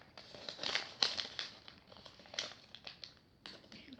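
Sheets of paper crinkle and rustle close by while being folded into an origami frame shield, in quick, uneven crisp bursts with no talking.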